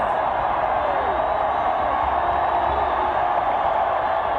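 A steady, dense roar from a large stadium crowd at a 1988 Texas vs BYU college football game, holding a constant level throughout with no breaks.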